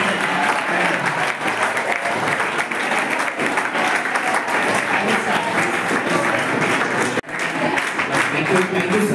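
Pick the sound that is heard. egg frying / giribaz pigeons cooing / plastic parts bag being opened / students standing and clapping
students standing and clapping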